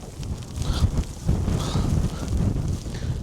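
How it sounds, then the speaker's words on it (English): Strong winter wind during the first snowfall in Kidsgrove, close buffeting gusts rumbling against the microphone in uneven surges. "the wind is really, really bad"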